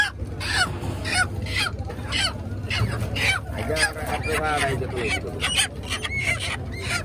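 Poultry at a live chicken market call out with honking, clucking squawks in repeated bursts, close and fairly loud amid busy crowd chatter and people talking nearby.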